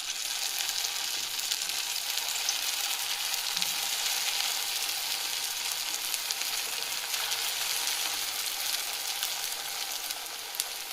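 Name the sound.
grated potato sabudana vada frying in hot oil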